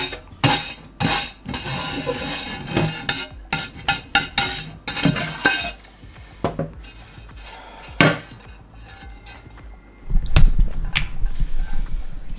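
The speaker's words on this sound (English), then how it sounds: "What I use is a soft brush, a very soft brush" A soft brush scrubs powdery residue off an Ooni Volt 12 pizza stone in quick, rhythmic rasping strokes. A quieter stretch follows with a few isolated knocks, then another louder burst of scrubbing, with no speech.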